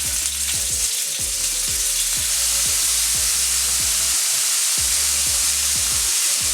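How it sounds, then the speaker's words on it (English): Cubed steak searing in hot cooking oil, a loud continuous sizzle with oil splattering and popping, broken by rhythmic scraping and stirring strokes in the pan, no talking. "I'm gonna grab my cooking oil and we're gonna begin to sear these steak."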